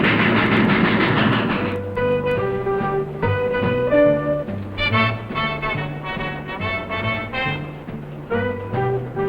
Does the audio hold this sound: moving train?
yes